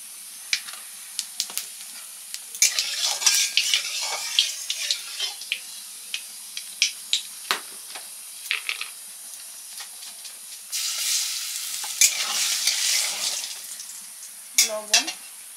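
Black cumin seeds fry in hot oil in a pan for a Bengali lunch, crackling and popping in irregular bursts while a spoon stirs with clinks, and a louder wave of sizzling swells partway through.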